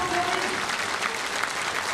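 A crowd at the 2008 Viking Power Challenge strongman contest claps and cheers steadily, a dense, continuous wash of applause for two seconds with no pause.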